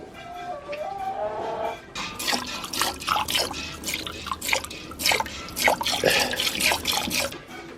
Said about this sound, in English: So let's get to milking